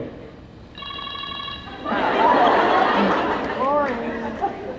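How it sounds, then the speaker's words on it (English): A phone ringtone rings in a brief steady electronic tone at a crowded convention panel, quickly swallowed by audience chatter and laughter, with voices talking over it. "Ringtone. Is your phone on?"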